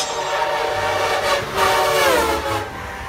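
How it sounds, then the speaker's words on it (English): A passenger train passes with a rumble of rolling cars, and a horn sounds loudly through the middle of the passage. "Train, a series of connected vehicles running on tracks, used for transporting passengers and cargo."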